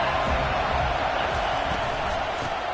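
Steady roar of a stadium crowd in a Madden football video game, a dense, loud, continuous wash of cheering that holds level throughout with no clear breaks.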